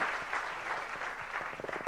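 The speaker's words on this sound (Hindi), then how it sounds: "पता है तो तालियों से स्वीकृति दीजिएगा।" An audience at a Jain religious gathering claps in approval, a steady wash of applause that thins into a few separate claps near the end.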